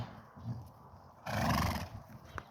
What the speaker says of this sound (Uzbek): Mana xudo xolasa otlarimiz.